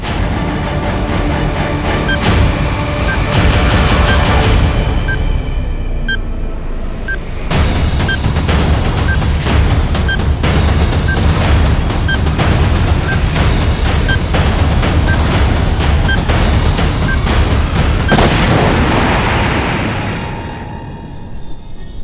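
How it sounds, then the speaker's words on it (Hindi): A long run of heavy blasts and booms, loud and close, with sharp crackling bursts repeating throughout before fading near the end. "जो तुम ना बोल पाए वो अब ये बम विस्फोट बोलेगा"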